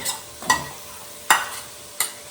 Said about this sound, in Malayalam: മസാല ഒഴിച്ചതിന് ശേഷം ഇതൊന്ന് ഇളക്കണം